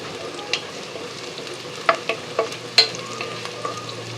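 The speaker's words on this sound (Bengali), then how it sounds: "পেঁয়াজটাকে ভেজে নিচ্ছি" Sliced onions frying in oil for birista to top pulao, a low steady sizzle with a handful of sharp spatula clinks and scrapes against the pan.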